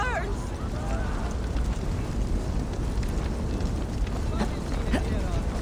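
Fire burning in the video game Assassin's Creed Valhalla, a steady dense roar of flames at close range with a few crackles, and brief voices calling out over it.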